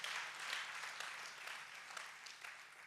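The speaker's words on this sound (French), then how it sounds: "un applaudissement au Seigneur." A church congregation at a prophetic conference claps steadily, a soft, dense patter of many hands heard at a distance and fairly faint, continuing evenly throughout.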